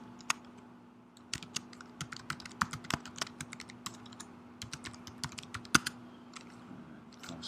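Typing on a computer keyboard, a quiet run of irregular light key clicks close by, with no speech.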